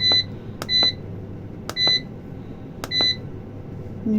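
A kitchen appliance, likely a food dehydrator, gives four short, clear electronic beeps at a steady, nearly even pace as it is switched on and its temperature is set, with no talking.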